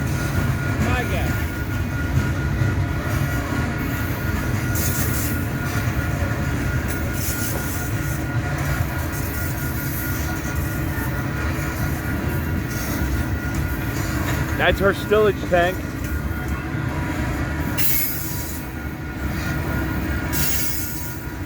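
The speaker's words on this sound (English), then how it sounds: "There's cars coming to our plant on this train." A Norfolk Southern freight train rolls past near Blair and Fremont, Nebraska, with a loud continuous rumble, wheel squeal, and a short burst of squeaking midway, while people talk over it.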